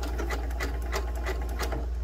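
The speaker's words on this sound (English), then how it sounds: "we're just going to take a couple of stitches in place" Up close, a sewing machine stitches in place with its stitch length set to zero, running at a rapid, even rhythmic chatter for a couple of seconds over a low motor hum, with no voices.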